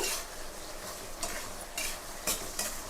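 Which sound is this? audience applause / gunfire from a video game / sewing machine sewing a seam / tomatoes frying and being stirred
tomatoes frying and being stirred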